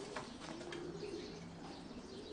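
Low, steady homing pigeon cooing with a soft repeated rumble, close by in a pigeon loft, over a constant background hum.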